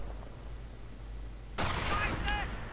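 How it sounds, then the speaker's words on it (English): Gunfire breaks out in a World War II strategy game, including a BAR-armed stormtrooper, as a sudden burst of loud sharp shots and ringing impacts after a stretch of low background hum. "getting gunned down by the BAR-equipped Stormtrooper, the Sturzdorf"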